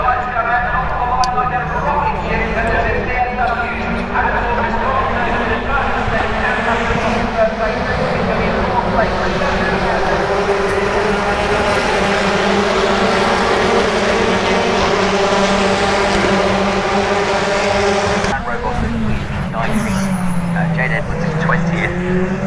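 British Touring Car Championship cars roar off the line at a race start at Oulton Park, an onboard engine drone rising through the gears with other cars around, while a commentator talks over it.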